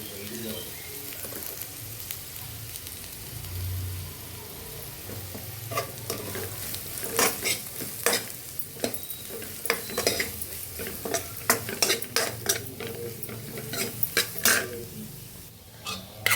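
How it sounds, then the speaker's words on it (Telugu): Bottle gourd pieces and chili powder are stirred in a pan on the stove, a soft sizzle underneath and repeated scraping clacks of a spoon against the pan that grow busier toward the end. "ఇదిగండి ఇట్లా కలుపుతుండాలి"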